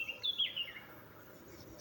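A bird gives a short burst of high chirps near the start, then fades into faint, quiet background hiss.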